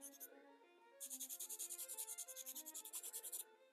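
A pencil tip is sharpened by rubbing it against an abrasive art-store sharpener, with one short scrape and then a quick run of rhythmic, close, gritty back-and-forth strokes.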